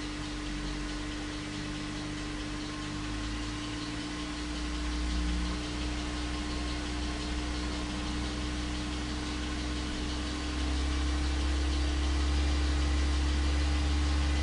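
A car engine idles with a steady low hum, then the throttle is gently pressed and the pitch climbs in gradual steps, rumbling louder toward the end.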